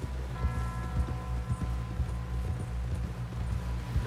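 A horse gallops in Red Dead Redemption 2, a steady rapid clip-clop of hooves over a low rumbling bed of game ambience, continuous and fairly close with no talk.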